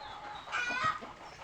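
Hens in a backyard poultry flock cluck once briefly at moderate volume, rising out of faint surrounding noise before it settles back to quiet.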